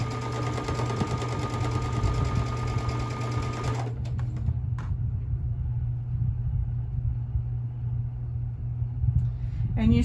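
A sewing machine stitches quilt block pieces together with a steady, close mechanical whirr for about four seconds, then stops, leaving a low hum and faint handling noises.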